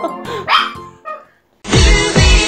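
A puppy barks in short, loud, close yips and woofs, a few separate bursts with a pause, then a longer pair of barks at the end.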